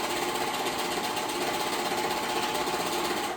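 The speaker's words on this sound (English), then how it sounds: "this serger is old and very loud" An old, loud serger stitching fabric, a continuous close mechanical whir with a fast rattling rhythm that runs steadily and cuts off at the end.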